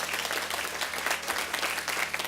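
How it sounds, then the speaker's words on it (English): An audience gives a round of applause for Tesla training program graduates at a community college, a thick continuous burst of many hands clapping at moderate volume. "give our graduates a tremendous round of applause"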